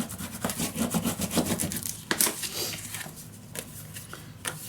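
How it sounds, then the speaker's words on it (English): Glued paper for a scrapbook mini album is burnished down with repeated short rubbing strokes, a soft rhythmic scraping close to the microphone, with no talk over it. "So glue it down, burnish it down, and then cut it out."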